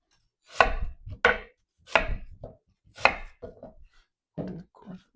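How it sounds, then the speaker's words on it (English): A knife slices an apple into half-inch slices, making about seven crisp, separate cuts at an uneven pace, each close and distinct against a quiet background. "cut it into slices."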